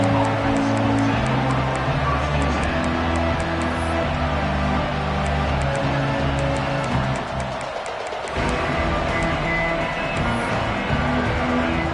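Dense college football stadium crowd noise, a steady loud wash of many voices that holds throughout, briefly dipping near the eighth second before swelling again.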